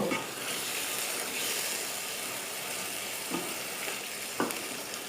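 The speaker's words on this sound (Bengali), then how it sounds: "ভিউয়ার্স, চলে এলাম আবার, একটু নাড়াচাড়া করে দেব।" Chicken and papaya curry stirred in a pan, a steady background sizzle with a few soft scraping strokes of the spoon near the end, no voices.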